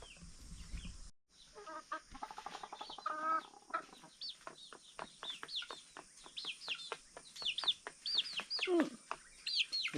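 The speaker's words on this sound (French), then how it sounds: "Les poulets de chair." A flock of broiler chickens and young chicks on a farm cluck and cheep up close, a busy, irregular stream of calls overlapping one another.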